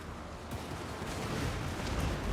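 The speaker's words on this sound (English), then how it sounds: "Shoot! Cannon! Shoot that lord!" Cannon fire in the Warhammer 2: Total War battle game, a dense, rumbling barrage of booming shots blending into a continuous noisy roar, moderately loud, with no talk.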